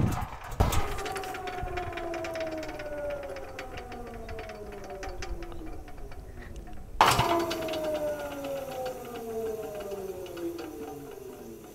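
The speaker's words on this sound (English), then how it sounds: "Now I'm going to shut off the generator." Engine-driven generator on a welding setup being shut off, heard twice as a sharp clunk followed by a descending whine as the motor winds down, fairly close with no talking.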